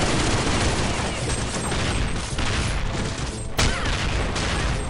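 An M2 heavy machine gun rattles in a Counter-Strike zombie escape match, a dense, continuous burst of rapid, loud gunfire that runs nearly unbroken for several seconds.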